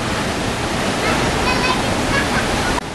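Telun Berasap waterfall in Kerinci, a loud, steady roaring rush of falling water heard up close, filling the whole scene without break until a brief drop at the very end.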